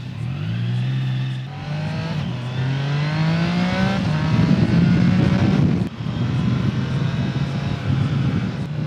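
A Triumph Tiger 660 three-cylinder motorcycle on its stock exhaust pulls away, its loud, close engine note climbing steadily through the revs with a brief dip near the end, and no talking over it.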